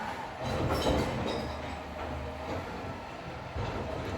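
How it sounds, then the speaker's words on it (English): A low, continuous garbage truck rumble with clanks and rattling from outside, steady throughout with no talking. "Don't mind all the noise, it's garbage day."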